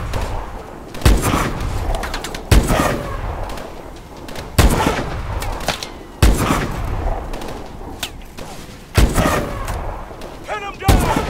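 Heavy gunfire booms in Call of Duty Advanced Warfare: a string of loud, punchy shots recurring every second or so over dense battle noise, with voices calling out amid the combat.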